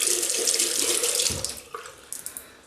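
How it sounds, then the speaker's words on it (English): Hot water runs from a tap into a bathroom sink as a steady close hiss, then the flow changes and breaks into a few splashy drips toward the end, no talking. "Hot water."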